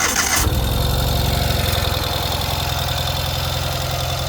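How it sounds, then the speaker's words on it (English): A 2022 Ural sidecar motorcycle engine cranks briefly, then catches and settles into a steady, loud idle with a low throbbing rumble that continues to the end. "We'll go ahead and start it up."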